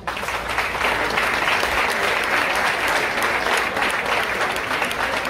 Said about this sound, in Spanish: Un aplauso para Luis.